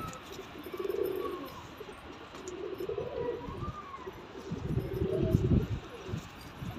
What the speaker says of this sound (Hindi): एक कलसिरा कबूतर ये लिया है